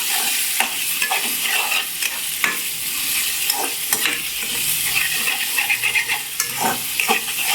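Cut chillies stirred into a pan of frying Nellore fish curry, steady sizzling with repeated scraping strokes of a spoon against the pot, close and continuous without speech.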